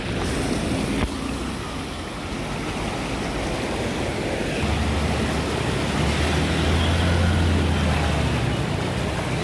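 Strong floodwater pours across the Devgad–Jamsande road in Konkan during heavy monsoon rain, a loud, continuous rushing wash with a deeper low rumble building in partway through and no voices.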